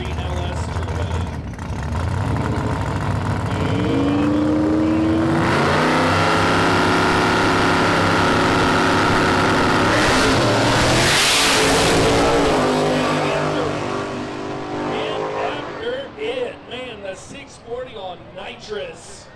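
Drag race cars at a no-prep event, one on nitrous and one with a turbocharged 5.3 LS, roar loudly and continuously as they launch and pass, with an announcer talking over the engines throughout.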